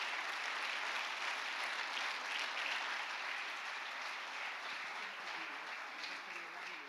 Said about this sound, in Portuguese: Pode aplaudir ao Senhor, queridos